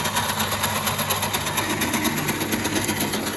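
An electric corded reel lawn mower runs after being switched on, giving a steady, even motor whir with a faint rhythmic flutter and no talk over it.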